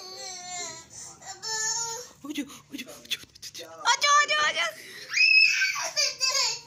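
Young child crying and screaming in bursts at home on a winter evening, loud wails broken by short pauses, with a voice speaking between the cries.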